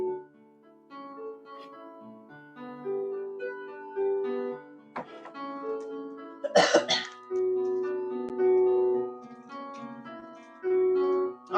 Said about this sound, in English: Last thing I want to do is cough in your face.